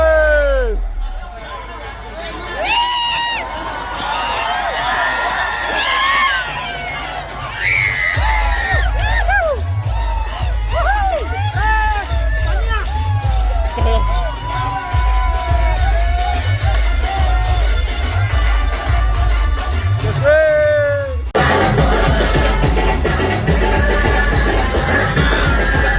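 A large crowd at the Ekvira foothills greeting trekkers on a Lohgad-to-Bhivgad fort expedition, with loud continuous cheering, whoops and shouting under a pounding low beat, and people talking close by throughout.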